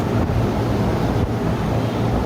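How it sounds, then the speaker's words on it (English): Simulated hurricane-force wind at a Wonderworks attraction in Branson: a constant loud roaring rush of air buffeting the microphone, steady and unbroken with no voices. "Feel some hurricane winds?"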